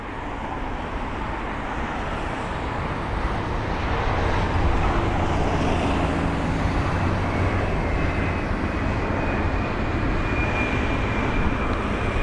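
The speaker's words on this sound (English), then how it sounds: "What a small aircraft, look at that." An Embraer E170 jet arriving at London Heathrow airport makes a steady distant engine roar that swells gently and holds, over broad background rumble with no talking.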